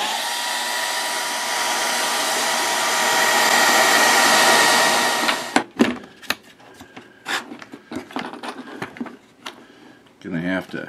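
Hot air blower heating a PCV tube: a loud, steady whooshing drone for about five seconds, then it cuts off, leaving scattered clicks, handling knocks and someone talking.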